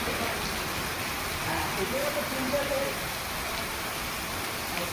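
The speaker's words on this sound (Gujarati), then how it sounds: "નાનીમાળ, ઘેટી, દુધાળા, કંજરડા, આદપુરમાં વરસાદ વરસ્યો" Rain falling over villages in Bhavnagar district, Gujarat, a steady dense hiss of rainfall filling the whole stretch, with a faint voice briefly audible beneath.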